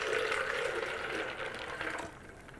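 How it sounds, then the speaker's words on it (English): Filtered water pours steadily into a blender holding pumpkin seeds for raw vegan seed milk, a close, continuous splashing stream that tapers slightly at the end. "To that, 3 cups of filtered water."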